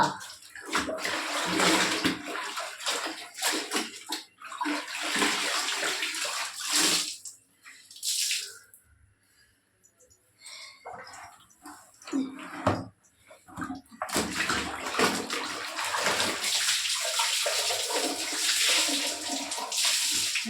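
Clothes are hand-washed in a tub of water, with repeated loud sloshing and splashing bursts separated by a short quieter lull, close by.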